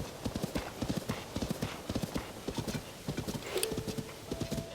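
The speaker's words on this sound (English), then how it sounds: "a little bit of horse riding never really hurt anyone, right?" Hooves clip-clop quietly in a steady galloping rhythm as a basic horse is ridden in the video game The Legend of Zelda: Tears of the Kingdom. A brief whinny rises near the end.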